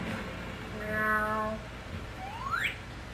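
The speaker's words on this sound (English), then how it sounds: "Cats." Cats meow several times, a drawn-out harmonic meow followed by a rising, curling cry, fairly close and clear over a low steady background rumble with no talking.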